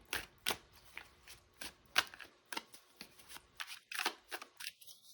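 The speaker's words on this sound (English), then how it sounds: "so let's get some tarot cards." Tarot cards are shuffled close up in a quiet room, producing a run of soft, quick riffling flutters and taps at an uneven rhythm.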